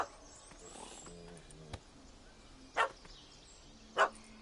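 A dog in The Witcher 3 video game barks in two short, loud, sharp bursts, spaced about a second apart. They rise over a quiet game ambience, with some faint voices and sounds earlier on.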